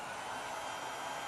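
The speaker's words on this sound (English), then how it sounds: "once I turn the hair dryer back on" A hair dryer runs steadily with a constant broadband whoosh and motor hum, close and even throughout.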